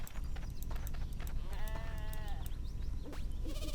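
Sheep in the RuneScape 3 video game bleat during sheep herding, one clear wavering bleat mid-clip and a shorter one near the end, over steady game clatter and clicking sounds.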